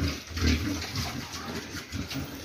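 Two-month-old pigs eating feed at a farm, with a steady mix of snuffling, chomping and trough noises close by and no talk.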